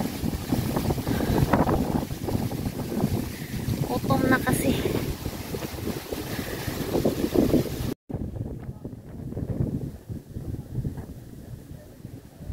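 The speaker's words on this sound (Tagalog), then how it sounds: "Ang hangin, grabe lakas." Strong wind buffeting the microphone in a constant roar on Baoshi (Teapot) Mountain, New Taipei, with hikers talking through the gusts.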